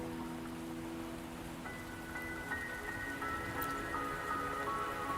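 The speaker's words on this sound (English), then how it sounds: "Don't worry, the rain won't last much longer." Steady rain falls in the video game Wuthering Waves, a continuous even patter of drops on surfaces with soft tonal game music layered underneath throughout.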